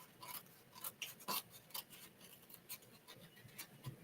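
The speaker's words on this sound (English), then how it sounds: "So we're going to go ahead and just cut this piece off." Scissors snip through a piece of craft paper while trimming a DIY gift bag, giving a quiet run of short, crisp cuts with small pauses between them and no talking.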